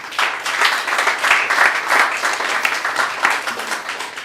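A church congregation bursts into sustained applause, dense overlapping clapping with occasional louder accents and no voices standing out, lasting several seconds at a steady, enthusiastic level.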